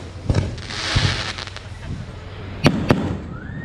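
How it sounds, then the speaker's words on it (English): A big fireworks display booms outdoors at night after dinner in Sinaloa, with several loud explosions and crackles, one sharp pair of bangs near the end, over crowd noise and murmuring voices. "It's serious fireworks."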